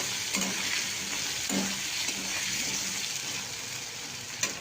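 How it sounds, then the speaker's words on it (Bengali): Meat frying with turmeric in a pan, an even steady sizzle heard up close with occasional light stirring clinks and scrapes. "আমি এবার হলুদ দিয়ে নিয়েছি, একটু ভাজা ভাজা হয়ে এসছে, আরও লাল লাল করে ভাজা ভাজা হবে"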